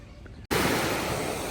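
Sea surf washing onto a beach at the 13th station of Fontan in Odesa, a steady broad rush that starts abruptly after a brief silent gap and holds at an even, close level.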